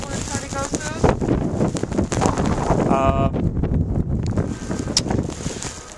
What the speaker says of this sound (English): The wind is not terrible, but it is very windy.